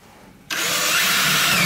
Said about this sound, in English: Then we'll drill a hole through here in the middle for the actual plunger handle to fit through.